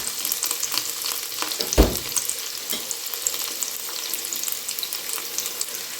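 Frying for paneer biryani crackles loudly and continuously in a pan, a dense sizzle with one sharp thud-like stir just before the midpoint and small pops scattered throughout.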